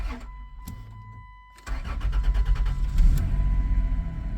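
A 2000 Chrysler Grand Voyager SE with a sticking ignition, off the road for years: a few clicks and a chime, then the starter cranks and the engine catches into a loud, rough, lumpy idle.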